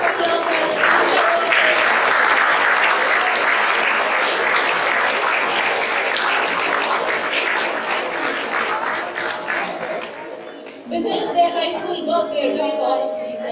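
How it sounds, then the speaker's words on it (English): Loud, sustained applause from an audience at a children's math circle festival, clapping for the young students. It rolls on for about ten seconds before thinning out, and a few scattered voices remain near the end. "Please give a big round of applause."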